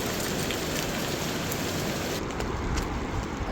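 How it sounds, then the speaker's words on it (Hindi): Heavy rain pours steadily in the mountains, a dense, constant hiss of drops drumming on surfaces close by, loud and unbroken throughout with no voices. "तेज़ बारिश आने लग गई है।"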